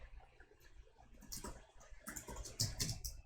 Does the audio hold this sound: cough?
no